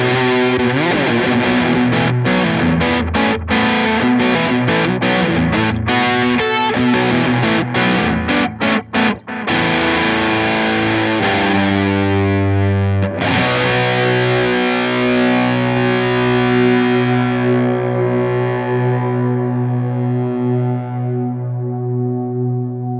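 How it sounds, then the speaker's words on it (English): Electric guitar through a Bootlegger Blues 15/30 all-tube amp with 12AT7 preamp tubes and 6L6 power tubes into a 1x12 speaker, playing a loud overdriven passage of quick strums and chords that ends in long sustained notes. "I'll show you a few of the different sounds that you can get with the clean and the overdrive channel"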